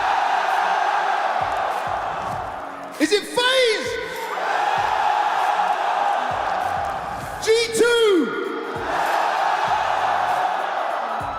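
A packed arena crowd at the CS2 Shanghai Major esports semifinals erupts in two loud cheering bursts with whoops, separated by an announcer's amplified voice echoing through the hall.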